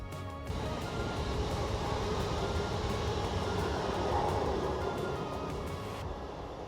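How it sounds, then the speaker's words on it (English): A steady, heavy rumble of a train passing through Bathpool, Kidsgrove fills the whole stretch, continuous and fairly loud with a faint high hiss on top. "Train passing through."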